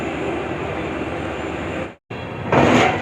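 The Bandra-Bhavnagar Express departs Bandra Terminus at speed with a steady, loud rolling rumble and rush. The sound drops out briefly, then returns and swells to a brighter, louder roar near the end. No voices.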